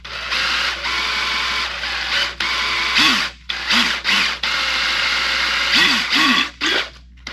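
Hand ratchet turning a bolt while refitting an oil pump on a Jeep 4.0 engine: rapid clicking runs in several bursts, close and loud, broken by short pauses and a few squeaky creaks.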